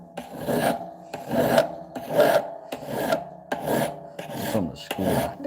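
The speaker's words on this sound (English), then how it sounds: "there are a lot of schools on which direction one should sharpen in" A knife blade is drawn repeatedly across a sharpening stone in about seven steady raspy strokes, each a scraping swell separated by short pauses, close and clear with no talking.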